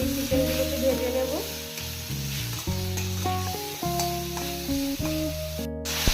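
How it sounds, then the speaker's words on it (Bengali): Chicken pieces fry over a low flame in hot oil, a continuous close sizzle with stirring, partly covered by a melodic background tune; no one speaks. "তেল গরম হয়ে গেছে। গ্যাসের ফ্লেমটা কম রেখে আমি চিকেনগুলোকে ভেজে নেব।"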